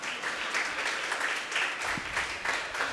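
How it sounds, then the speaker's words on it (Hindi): Steady, fairly loud applause from an audience at a Jain religious discourse and question-answer session in Petarwar, Bokaro, Jharkhand, sustained clapping filling the room throughout with no talk over it. "तो जोर से ताली तो लोग बजाओ"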